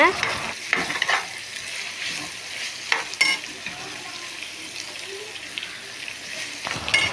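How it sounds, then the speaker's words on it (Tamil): Vegetables being sautéed in a pan, with steady sizzling and repeated scraping stirs of a utensil against the pan, fairly close and without any talk. "இப்போது இந்த காய்கறியெல்லாம் உள்ளே போட்டதுக்கப்புறமா நல்லா வதக்கி எடுத்துக்கோங்க."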